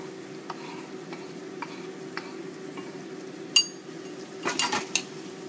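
Meat and freshly chopped kimchi fry in a pot for soondubu jjigae, with a low steady sizzle under intermittent scraping stirs and a few sharp utensil clinks against the pot.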